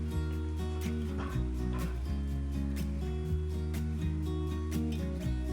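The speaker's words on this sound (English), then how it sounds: "Sorry, that's my dog. She's being overprotective and there's no one here." A dog indoors whimpers and gives short barks, a close, fairly loud run of high whining cries broken by sharp yips.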